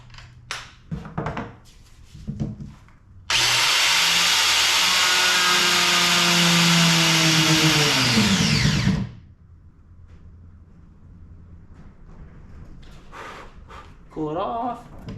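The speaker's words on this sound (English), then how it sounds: "Nice friction weld." A power tool spin welds a plastic fitting onto an RV water tank, a loud steady whirring grind for about six seconds that slows as it stops, with someone talking quietly before and after.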